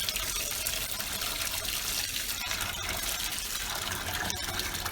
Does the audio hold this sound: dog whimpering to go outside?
no